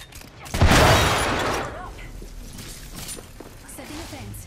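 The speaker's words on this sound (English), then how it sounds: "Grenade coming yep. in." A grenade blast in a shooter video game: a loud broadband burst near half a second that decays over about a second, followed by quieter game noise with people talking over it.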